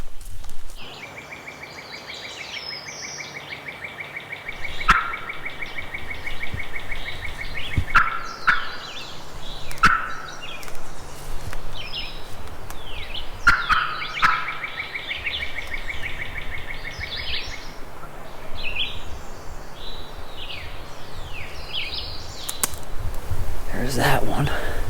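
Wild turkey gobbles ring out several times at a distance in big-woods hunting country, each a rapid rattling burst over steady outdoor ambience, with brief sharp call sounds and faint background noise between them.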